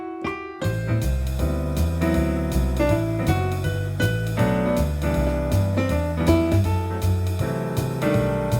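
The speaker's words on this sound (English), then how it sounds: "now I'm using some really cool chords in the left hand called rootless voicing chords" Jazz piano plays rootless voicing chords in the left hand under a melodic right hand, sustained harmonies sounding clearly and alone after a brief pause at the start.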